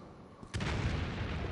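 A zombie grenade detonates in the Umbrella Corps video game, a short quiet lead-in broken by a sudden loud boom that rolls on as a dense, sustained rumble.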